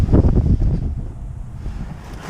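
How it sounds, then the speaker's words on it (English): Wind blows outdoors in low rumbling gusts against the microphone beside a Kubota B2650 compact tractor, loudest at the start and then settling into a steady buffet. "It's kind of windy."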